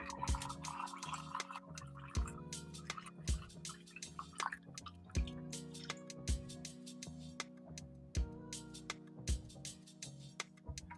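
Brewing coffee drips through a filter. Sharp, irregular drops fall close by, with soft liquid gurgles between them, over a steady low hum in a quiet room.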